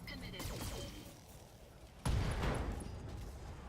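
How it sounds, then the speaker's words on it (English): An ammunition explosion in the mech combat game BattleTech Flashpoint bursts in suddenly and loudly about halfway through, then rumbles on over the ongoing battle noise. "Ooh, ammo explosion."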